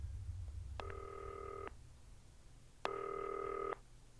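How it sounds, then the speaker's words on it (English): A telephone rings twice in the video game Not for Broadcast, each ring a buzzy electronic trill just under a second long with a short pause between, clear over a low background hum and no talking. "How do I answer the phone?"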